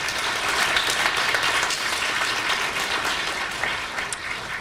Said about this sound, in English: they deserve a round of applause for a great job